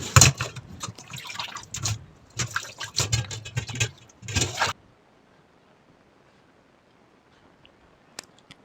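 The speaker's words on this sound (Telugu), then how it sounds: "ఇలా మొత్తం బాగా క్లీన్గా అయితే 4-5 సార్లు అయితే కడుక్కొని పెట్టుకోవాలి." Mutton pieces are washed by hand in a bowl of water, giving several bursts of splashing and sloshing over about five seconds, then near silence with a faint drip.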